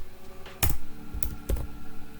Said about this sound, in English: in this command prompt you have to type this code one by one and hit enter